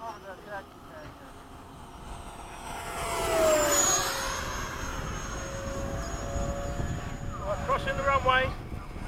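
A MiG-21 jet makes a high-speed pass at Bayside, its engine whine rising and sweeping in pitch as it nears and crosses overhead, then fading. It is heard at a distance beneath a pilot's radio chatter.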